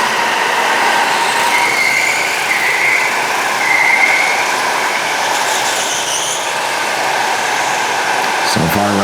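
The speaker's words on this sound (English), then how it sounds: "I'm going to go ahead and let this one play so you can hear these karts running, racing by" Gas go-karts race past on an indoor track, a steady loud engine drone with whining passes rising and falling throughout, ending in a brief clatter.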